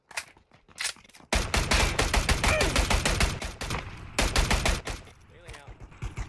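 Video game gunfire erupts in loud rapid bursts and scattered single shots after a quieter opening, with a voice talking over parts of the fighting.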